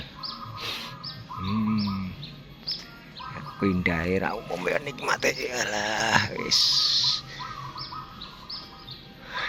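A zebra dove coos in short repeated phrases alongside chirping birds outdoors at a pavilion near Borobudur, Magelang, Central Java, while someone talks close by over the calls.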